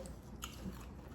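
Someone bites into crispy golden brown fried chicken, giving a single close, soft crunch followed by brief chewing, with no talking.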